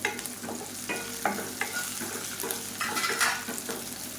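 Ingredients for coriander thokku being sautéed in a pan, with steady sizzling frying under repeated stirring scrapes and light clinks of a spoon against the pan, close and moderately loud with no talk.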